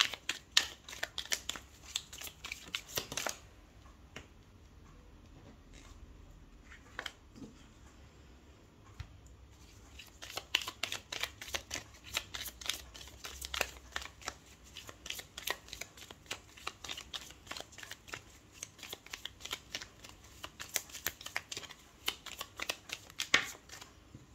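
Tarot cards shuffled and drawn by hand: bursts of riffling and sliding card noise come in quick clusters with short pauses, close and clear, with no talking.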